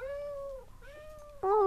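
A pet cat meowing in a house, two drawn-out, clear meows followed by the start of a louder, sharper third call, close and alone without talk.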